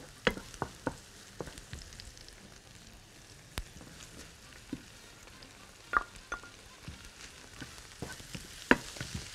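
Butter melting in a pan, a quiet, faint sizzle punctuated by scattered clicks and light clatters of utensils, with no one talking.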